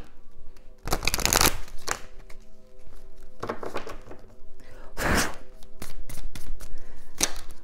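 Vintage oracle card deck shuffled by hand in repeated bursts of riffling and slapping cards, close and loud, with short pauses and soft taps between shuffles.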